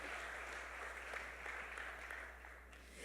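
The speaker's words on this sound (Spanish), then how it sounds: "Denle un aplauso al Señor" Steady applause from a church congregation at a retreat in New York City, a dense wash of clapping heard at a distance with a low hum underneath.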